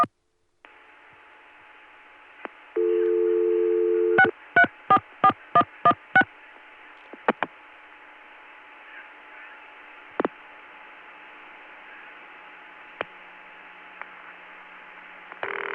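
Telephone tones on a 1980 CCSA private network line after dialing an extension: a steady tone, then a quick run of about six evenly spaced dial pulses or tones, a couple of clicks, and a long hissy open line with faint scattered blips.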